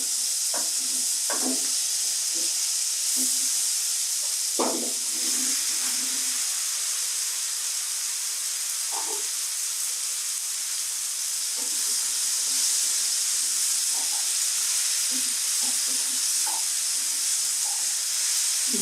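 Pieces of bottle gourd sizzle in a hot pan under a constant bright hiss, with scattered soft clinks and stirring scrapes from the cookware.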